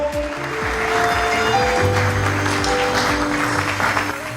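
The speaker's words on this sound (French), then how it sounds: "On applaudit très fortement." An audience applauds at a youth council investiture ceremony in Haut-Katanga, with sustained, loud clapping mixed with crowd noise and some tonal sounds in the background.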